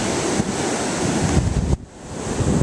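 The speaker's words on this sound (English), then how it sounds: "Ah, water." Ocean waves wash against a rocky shore, a loud roaring surge with heavy wind buffeting the microphone, dipping briefly midway before swelling again.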